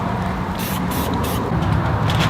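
Green spray paint hisses from an aerosol can onto the stem of a pumpkin welded from horseshoes, a steady broadband spray running close and loud in bursts through the whole stretch.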